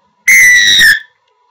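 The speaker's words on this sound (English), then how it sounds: "The long and loud whistle is used when you award a penalty kick" A rugby referee blows one long, loud whistle blast for a penalty kick, a piercing steady tone lasting under a second, close and alone against silence.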